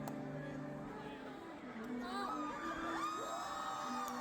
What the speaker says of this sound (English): you can barely hear it over the cheering